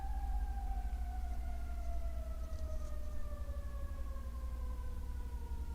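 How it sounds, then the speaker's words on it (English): Emergency siren outside in Hollywood at midday, a wailing tone slowly falling in pitch, fairly distant, over a constant low rumble of traffic. "Oh, we got a siren."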